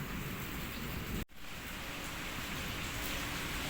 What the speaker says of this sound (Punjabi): ਦੇਖੋ ਕਿੰਨਾ ਤੇਜ਼ ਆ ਗਿਆ ਮੀਂਹ